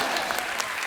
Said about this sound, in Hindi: पलक मुचल जी के लिए जोरदार ताली